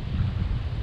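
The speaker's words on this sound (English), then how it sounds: "Oh, it's windy." Wind gusting across a seaside clifftop, a brief low buffeting rush hitting the microphone, with no voices.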